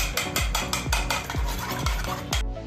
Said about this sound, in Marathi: आता ही 2 अंडी आपण फेटून घेऊया चांगली।